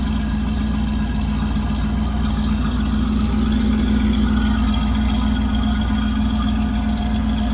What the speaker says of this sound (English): It's idling really high too.